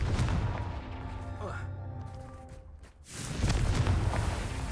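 The Confringo blasting spell goes off in Hogwarts Legacy as a loud, rumbling explosive burst, following a brief lull in the game's ongoing combat noise.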